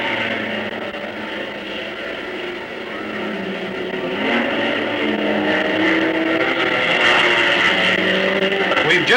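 A DB race car pulls out of the pits at the 1956 Sebring endurance race, its engine note rising and growing louder against a continuous din of crowd and track noise.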